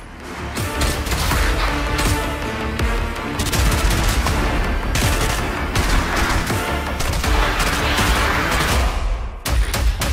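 Dense rapid gunfire and explosive bursts from a PlayStation VR2 shooter game with modern weaponry, loud sustained volleys and machine-gun fire rolling on for about ten seconds without pause.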